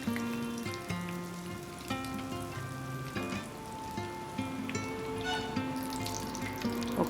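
Batter-dipped brinjal (eggplant) slices for bajji drop into hot oil, producing a continuous crackling sizzle with bubbling and scattered pops, moderately close, with no one talking over it.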